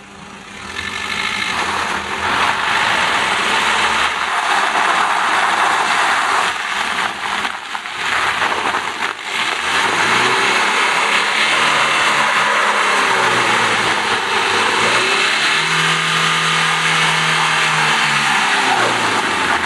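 A Renault Clio on winter tires accelerates uphill on an icy, polished track, its engine note loud, steady and rising in pitch across the whole stretch, with no talking.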